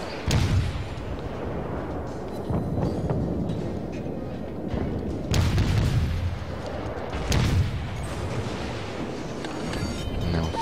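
Heavy naval gun salvos boom from warships in World of Warships, several loud deep blasts at irregular intervals over a constant rumbling battle background, with no talk.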